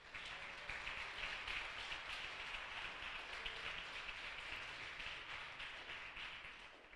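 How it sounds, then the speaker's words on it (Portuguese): A church congregation applauds together in a steady, even wash of clapping that holds for several seconds at a moderate distance, with no voices over it. "Você pode aplaudir, Senhor Jesus?"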